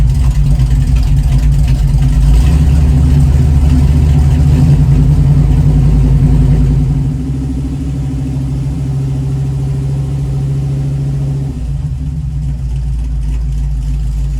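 A 1936 Chevy coupe engine idles while warming up, a steady, close, low rumble heard alone, easing slightly softer about halfway through and holding there.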